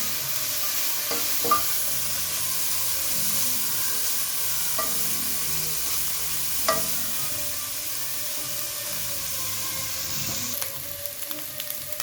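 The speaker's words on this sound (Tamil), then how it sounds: "சிக்கன் வந்து நல்லா ஃப்ரை ஆகிடுச்சு" Chicken fries in a pan with a steady, close sizzle and crackle, broken by occasional louder scrapes and stirs of a spatula; no voices.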